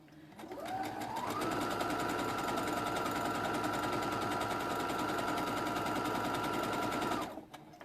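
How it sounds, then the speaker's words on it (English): A sewing machine runs steadily for about six seconds as it stitches a straight seam on a fabric bag, revving up quickly and then holding a fast, even, close-up drone before stopping abruptly. "we're going to sew straight the way along"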